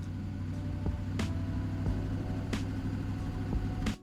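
A blacked-out C2 Corvette in Gran Turismo 7 with bolt-on mods and a suspension tune, its engine holding a steady low drone with a few faint clicks and shift-like blips, then cutting off abruptly at the end.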